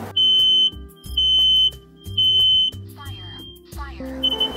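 A smoke detector sounds a loud, piercing electronic beep in repeated long pulses at a steady rhythm, close by, with other sounds and voices in the background.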